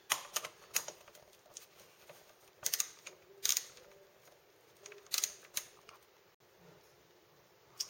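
Sharp, close clicking bursts with short pauses come from a tool loosening the air filter cover bolts on a 2006-or-later Honda GL1800 Gold Wing motorcycle, with no talking.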